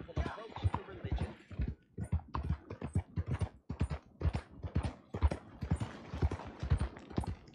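Horse hooves clip-clop in steady rhythm through Red Dead Redemption II, a close, even trot of sharp repeated hoof strikes.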